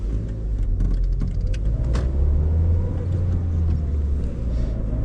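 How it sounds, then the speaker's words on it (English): A car braking to a smooth stop, heard from inside as a steady low road and engine rumble that continues evenly, with faint clicks and no speech. "So I'm gonna brake, and then when the car comes to a stop, I'm just gonna let off the brakes like that"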